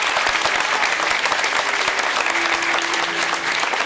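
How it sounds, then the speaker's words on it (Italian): Theatre audience applauding at the close of a three-act drama, a dense, steady wash of many hands clapping throughout, loud and sustained with faint voices mixed in. "Un altro applauso, grazie."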